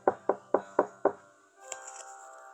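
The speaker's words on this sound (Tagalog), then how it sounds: "Katok ni Andy" Five firm, evenly spaced knocks on a door ring out close and loud, then a pause and a faint ringing, tonal after-sound.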